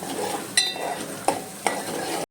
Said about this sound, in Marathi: त्याच्यामध्ये मी कांदा कढीपत्ता आणि थोडंसं जिरं आधी जिरं टाकले नंतर कांदा आणि कढीपत्ता टाकून आता ते भाजून घेणार आहे